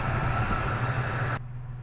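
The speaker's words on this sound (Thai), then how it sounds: "ต่อไปเป็น ตั้งรอบเดินเบา ในที่นี้เครื่องยนต์เริ่ม ร้อนถึงอุณหภูมิแล้ว" A warmed-up Toyota 3VZ-E V6 idles steadily with a low, even hum and rumble, close and constant throughout, with the upper hiss suddenly dropping away near the end.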